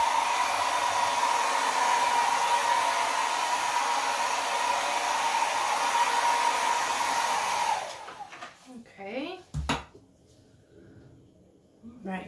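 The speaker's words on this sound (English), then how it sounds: "I'm going to get my hair dryer and just blow this around a little bit." A hair dryer blows over wet acrylic pour paint with a steady, loud whirring hum for several seconds, then cuts off, followed by quieter handling noises.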